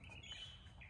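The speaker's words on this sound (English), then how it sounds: "You hear the birds chirping." Faint, high bird chirps twitter continuously in a quiet yard in San Salvador, with a low background hum beneath them.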